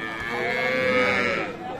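A cow at a cattle market in Dinajpur, Bangladesh moos in one long, loud, drawn-out call lasting nearly two seconds, with farmyard murmur faintly behind it.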